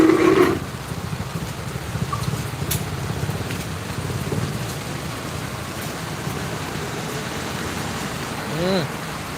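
Steady rain falls in Lopez, Quezon, a broad continuous hiss holding evenly for the whole stretch, with a brief tonal blip near the start and a faint chirp toward the end.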